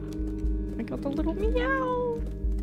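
A cat meowing in the video game Stray, one drawn-out rising and falling meow over steady game music and background hum, with a person talking around it.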